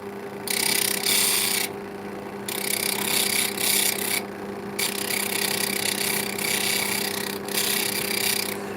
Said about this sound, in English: I'm hitting it really lightly here because this is brutal sandpaper